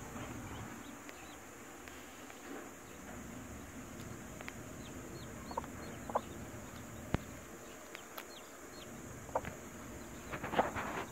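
Hen with newly hatched chicks in a backyard, soft scattered clucks and faint high peeps over a low steady background hum, quiet and fairly distant, no talking.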